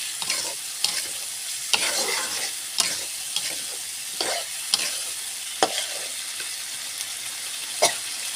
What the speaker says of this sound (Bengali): এইভাবে নাড়াচাড়া করে একটু কষায় নিব।